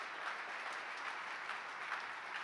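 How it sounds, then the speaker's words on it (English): An audience at a district gathering claps for volunteers, a steady, fairly faint wash of applause throughout with no voices on top. "Let's give all of our volunteers one more round of applause."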